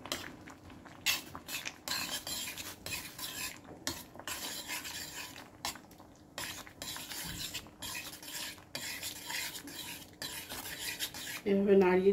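A spoon stirs cheese curry in a pan with steady scraping and rubbing strokes, fairly quiet and continuous, with no talking.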